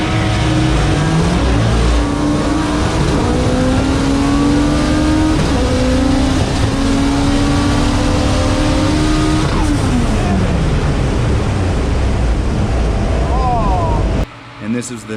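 A turbocharged Nissan Pulsar engine revs hard and loud up close, rising and falling in pitch for about fourteen seconds before cutting off abruptly, with some faint voices underneath.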